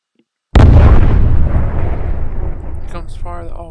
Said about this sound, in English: Here comes fire all cannons.